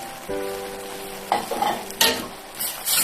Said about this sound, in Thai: ผัดให้เข้ากันค่ะ ผัดสับปะรดเห็ดหอมนะคะ